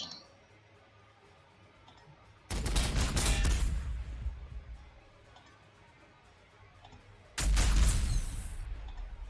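Two heavy bursts of weapons fire from a Leman Russ tank in the game Warhammer 40,000: Sanctus Reach, each a loud booming volley that rolls on for a second or two before fading, with a pause between them.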